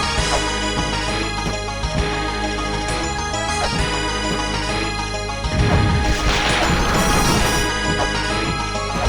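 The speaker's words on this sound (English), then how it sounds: "So that sound you heard was Shorn, Lumace's father, destroying that statue." A statue being destroyed in the video game La Mulana Remake, heard as dense crashing and rumbling game audio that swells into a louder burst of debris noise near the end, with no speech.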